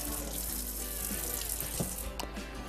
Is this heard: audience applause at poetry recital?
no